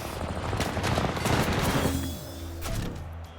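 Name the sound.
gunfire from the video game Combat Champions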